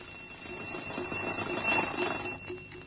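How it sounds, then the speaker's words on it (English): A giant alarm clock rings loudly and continuously in a cartoon land of chalk drawings, a steady bright jangling bell that holds for the whole stretch without pause. "the giant alarm went off so loud and so long that no one in the land of chalk drawings could possibly sleep through it"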